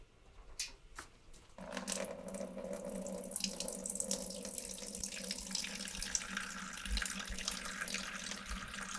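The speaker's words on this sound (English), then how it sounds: "Cold water enters here. Hot water exits here. In here you have the wort, and when it comes out here, it's cold." Cold tap water rushes steadily through a home-brew wort chiller, a sharp splash starting about a second and a half in and then continuing as an even, close hiss of running water with no talking.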